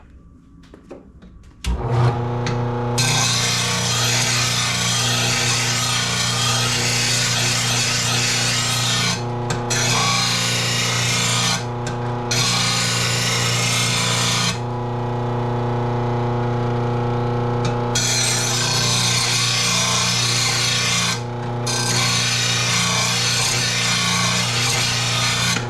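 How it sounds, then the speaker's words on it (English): The blade of a Yard Machines 21-inch push mower is sharpened: a loud, continuous rasping grind over a steady motor hum, close by, with a few brief dips where the blade lifts off. "Let's go throw her an edge on this blade real quick."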